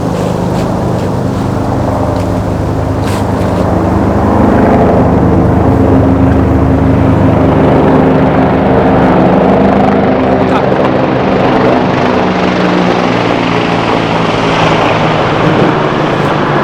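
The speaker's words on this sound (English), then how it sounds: "Police chopper." A police helicopter's loud, continuous rotor and engine drone fills the air overhead, steady throughout with a slight fading toward the end.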